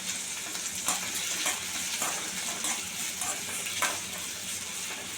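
Garlic and red chillies sautéing with a little salt in a pan for garlic chutney, giving a steady, close sizzle with occasional light stirring scrapes.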